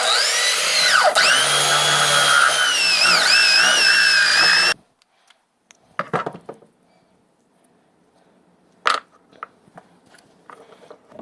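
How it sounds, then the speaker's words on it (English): A power drill bores a 7/8 inch hole with a spade bit for fitting bearings in a homemade fidget spinner, a loud whining grind lasting several seconds that stops abruptly, followed by scattered clicks and knocks. "Then you're going to go ahead and take a spade bit."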